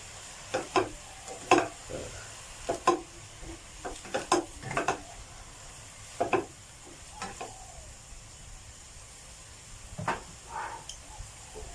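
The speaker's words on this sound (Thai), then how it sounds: "ผมก็จะใส่ผักกาดหอมลงไปล้างให้สะอาดนะครับ แล้วก็เอาผัด ก็ผัดให้เข้ากัน" Lettuce being stir-fried with cooked shrimp in a pan, heard as a series of sharp scraping and clattering stirs at an irregular rhythm over a low sizzle, close and moderately loud, with no talk.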